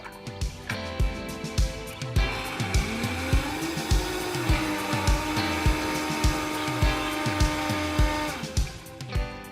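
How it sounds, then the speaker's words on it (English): Countertop blender whirring through vegetables and vegetable broth, a loud steady motor drone with a rhythmic chopping pulse, its pitch shifting as the blend smooths out, running almost without a break. "Okay, are you ready to blend?"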